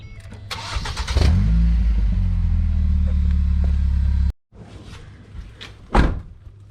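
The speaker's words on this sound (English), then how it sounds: "Are you ready for the most attractive car sound you'll ever hear?" A 2002 Nissan Sentra SE-R Spec V engine starts and settles into a loud, steady low rumble for a few seconds, then cuts off; a door thunks shut afterward.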